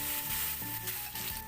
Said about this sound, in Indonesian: ini bumbunya betul-betul kita tumis dulu